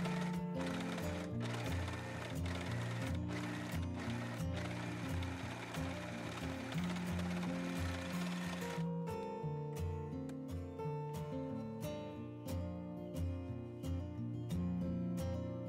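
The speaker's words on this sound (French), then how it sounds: "Venez ensuite surfiler le tour du bas de vos 2 pièces poche." A sewing machine overcasts the lower edges of two fabric pocket pieces with a zigzag stitch, giving a steady, rapid mechanical whir of close, regular clicks. It stops briefly, then restarts at a slower, more spaced pace.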